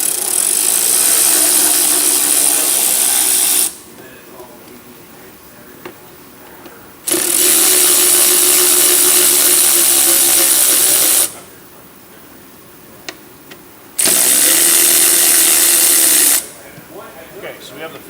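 A power tool runs in three long bursts of several seconds each while bolts are loosened to pull the air filter from a Honda Talon side-by-side, loud and steady, with quieter gaps between the bursts.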